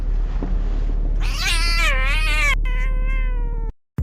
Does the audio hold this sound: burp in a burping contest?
no